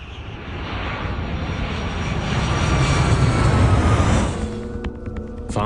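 Jet engines of an airliner in flight make a steady broadband roar that swells in the middle and fades, heard alone without voices.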